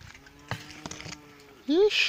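Cattle passing on a rural track give a single loud moo near the end, after a stretch of faint rustling and scattered knocks.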